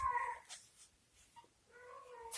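A cat meows twice close by, a drawn-out call followed after a short pause by another softer meow, in a quiet room.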